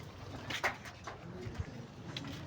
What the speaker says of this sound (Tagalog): Yung kalapati ko.